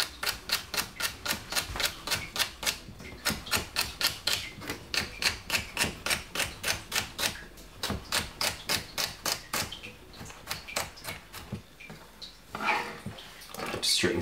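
A knife chops half a celery stick on a cutting board at home for a simple salsa, with a fast, even run of sharp, close taps that slows and loosens toward the end.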